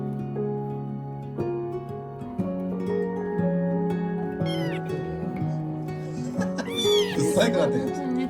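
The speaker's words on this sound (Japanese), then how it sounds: "猫だね。" A young kitten meows repeatedly, high rising and falling cries in a series, close by, with people talking over and between the calls.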